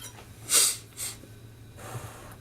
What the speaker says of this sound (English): Do apologise for the sniffing, I've had a cold.